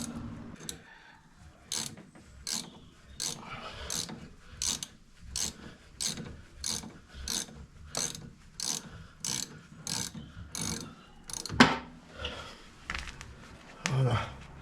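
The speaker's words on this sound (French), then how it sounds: "là, je desserre la barre stabilisatrice" A ratchet loosens the front stabilizer bar on a Jeep Cherokee XJ 2.5 L TD, giving a long run of steady, close, evenly spaced clicking bursts. Near the end the rhythm breaks into a couple of louder knocks.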